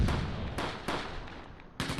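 Tank and gunfire shots in the Close Combat wargame set around Caen in June 1944: several sharp, loud blasts in a row, each with a short decaying tail, over a steady background of battle noise.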